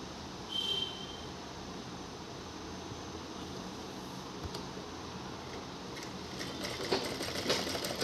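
A sewing machine stitches a table cloth in a steady, even mechanical whir that runs almost unbroken, faint and close, with a few light clicks toward the end.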